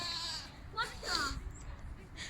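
Goats bleat on a family day out, a couple of wavering calls rising over steady background chatter and outdoor noise, with people talking nearby.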